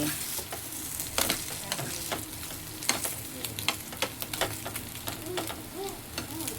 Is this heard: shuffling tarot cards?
no